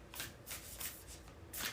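A deck of tarot cards is shuffled by hand in several quick riffling bursts, close and crisp, with short pauses between them and no talking.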